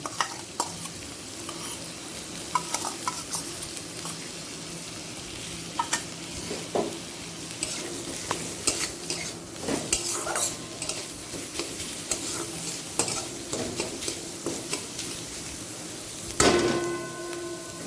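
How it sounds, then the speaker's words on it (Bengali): Chopped onion and green chilli fry in a pan with a continuous close sizzle, while a spoon scrapes and knocks against the pan in irregular strokes, with a louder clatter near the end. "একটু লাল করে ভেজে নেব"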